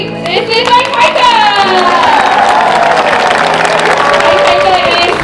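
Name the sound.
audience applause and cheering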